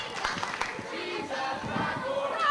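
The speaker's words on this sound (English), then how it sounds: "this crowd with some very unflattering chants directed towards Jetta" A crowd at an Irish Whip Wrestling show chants jeers at a wrestler, a steady mass of voices filling the arena. The rhythmic chanting continues throughout, moderately loud and slightly distant.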